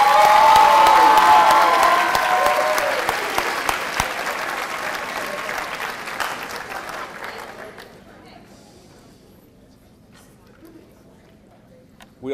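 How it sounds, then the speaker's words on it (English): Loud audience applause with some cheering fills an auditorium at a high school senior awards ceremony for the class of 2013, then gradually fades to scattered claps and near quiet. "give yourself another round of applause."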